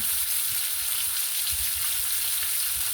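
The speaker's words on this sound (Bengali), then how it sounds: "ডিপ ফ্রাই করব আমাদের মাছ ফ্রাই হয়ে আসছে ব্রাউন কালার একটা সুন্দর কালার চলে আসছে" Foli fish deep frying in oil, a continuous close crackling sizzle with soft bubbling, steady and even throughout, no talking.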